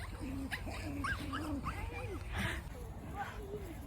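A dog whimpers and yips several times in short rising whines, with a steady low hum and outdoor noise underneath.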